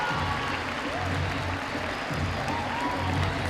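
Crowd at a lead-climbing World Cup final in Perm applauding and cheering a climber, a sustained wash of clapping under a commentator's voice.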